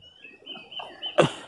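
Birds chirp and sing outdoors, a thin steady warble running throughout with a louder burst of calls near the end.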